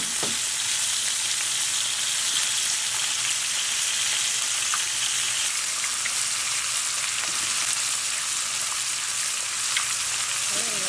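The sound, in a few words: egg frying in a pan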